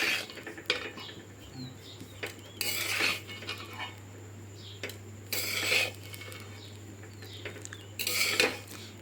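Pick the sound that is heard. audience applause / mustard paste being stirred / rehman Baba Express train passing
mustard paste being stirred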